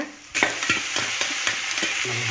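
Cabbage and moong dal with onion are stirred in a frying pan, where a soft constant sizzle is broken by several sharp spatula scrapes and clinks against the pan.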